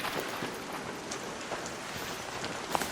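Steady rain patters continuously in the video game ARC Raiders, a dense hiss of drops with a few slightly louder splashes standing out near the end.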